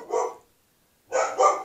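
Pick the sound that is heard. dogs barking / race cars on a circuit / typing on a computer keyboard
dogs barking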